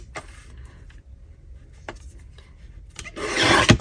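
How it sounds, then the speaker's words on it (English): Paper edges being trimmed with a craft cutter for a handmade Christmas journal: quiet scraping and rubbing strokes that swell into a louder, rough rasping cut near the end, with no talking. "now we need to trim down these edges. I think I'll use my cutter"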